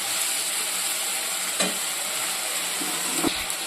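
Ginger and garlic with turmeric fry in a pan with a soft, steady sizzle, broken by a couple of brief scrapes from a stirring spoon, with no talk.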